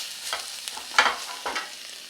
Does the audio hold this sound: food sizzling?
yes